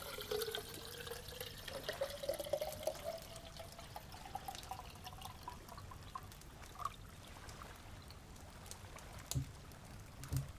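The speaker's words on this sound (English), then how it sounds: "a wee tin kettle is produced from the rucksack, and you promptly fill it with water from your bottle." Water poured from a bottle into a small tin kettle outdoors at night, a soft continuous trickle whose pitch rises as the kettle fills, with faint clinks and drips, quiet and close.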